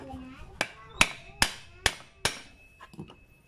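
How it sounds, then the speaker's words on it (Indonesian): Hammer blows striking a broken refrigerator compressor's steel casing after its middle has been cut with a grinder, five sharp metallic strikes at a steady pace, close and loud, followed by a few lighter clinks. "Baru kemudian kita pecah seperti ini ya. Kita palu."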